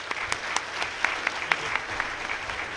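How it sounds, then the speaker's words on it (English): An audience at Toorcon 2007, a hacker conference, gives a presenter a round of applause, with steady clapping from a moderate-sized crowd and a few sharper claps standing out, lasting under three seconds. "let's give a big round of applause for Scott."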